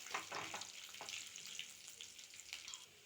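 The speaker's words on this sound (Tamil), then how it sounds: "சேர்த்துட்டு இதையும் நல்லா வதக்கிக்கலாம்." Bottle gourd peel and lentils sautéing in a pan over low heat, giving a soft, quiet sizzle with gentle stirring scrapes, no talking.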